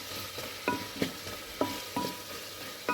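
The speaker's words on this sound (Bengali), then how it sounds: "আলুটা দিয়ে একটু নাড়াচাড়া করতে হবে।" Chicken and potato pieces being stirred in a cooking pan, with a spatula scraping through them in regular strokes about every half second over a soft background sizzle. There is no talking.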